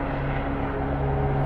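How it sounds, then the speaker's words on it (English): A helicopter passes over Covent Garden in London, a steady droning hum with a low tonal whine, moderately loud overhead with no talk. "Helicopter, always helicopters."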